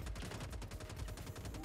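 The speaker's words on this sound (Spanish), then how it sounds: "Disparos afuera." Rapid, continuous bursts of gunfire crackle throughout, dense and loud, like automatic weapons in a firefight with no talking, in Star Citizen during a boarding assault on an Idris ship.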